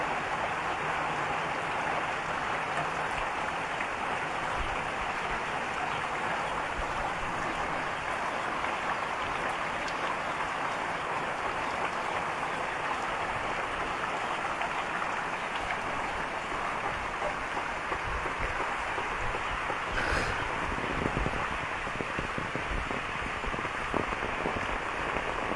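Rain falls steadily on a rural farmyard with livestock, a dense, even hiss that runs unbroken for about twenty-five seconds, with occasional faint animal sounds and no talk.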